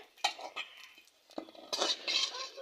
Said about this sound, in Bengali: এই যে বড়িগুলো আমি এভাবে ভেজে নেব।